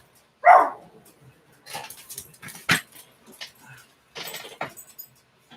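One sharp bark up close, followed by quieter scattered clinks and rustles, like jangling tags or handling noises.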